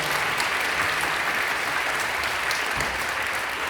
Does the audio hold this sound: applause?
yes